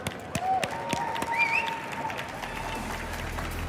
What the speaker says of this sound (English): A huge round of applause for all of our contestants.